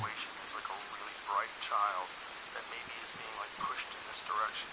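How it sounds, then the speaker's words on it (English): Heavy rain in the video game DayZ hisses as a steady broadband wash, with a voice talking softly over it in short bursts. "Oh man, it's raining so loud I can't even hear."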